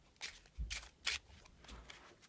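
A deck of playing cards is shuffled close up, giving several quick, soft riffling bursts in an uneven rhythm.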